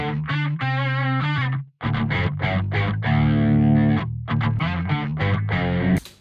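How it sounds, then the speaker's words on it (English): Distorted electric guitar riff plays alone with no drums, close and loud, with sustained chords, a brief drop to silence, then rhythmic chugging phrases that repeat. "let's have a listen how this riff or this guitar riff sounds like without any drums"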